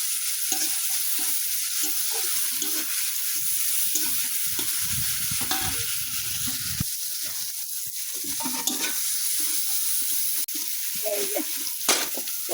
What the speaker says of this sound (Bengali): কষাবো না তো, একটু ভাইজা নিব।